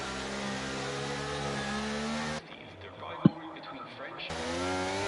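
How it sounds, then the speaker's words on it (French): Formula 1 car engines at a Canadian Grand Prix restart rev in a loud, sustained whine that drops away to a quieter, rougher stretch with one sharp knock before the revving returns. "Et Pampasol va relancer cette course."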